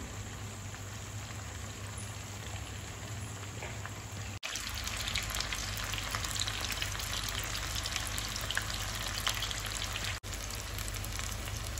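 Chicken pakoda pieces deep-fry in hot oil, a dense continuous sizzle and crackle that jumps louder partway through and holds steady, with a brief dip near the end.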